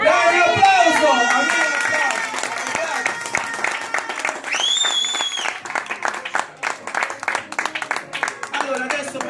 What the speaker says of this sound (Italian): Dai un applauso!